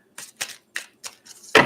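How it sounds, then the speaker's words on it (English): A deck of cards is shuffled in quick separate bursts, four crisp riffles spaced evenly, then a louder, fuller riffle at the end, close and distinct with no talking. "I'm just going to shuffle 5 times."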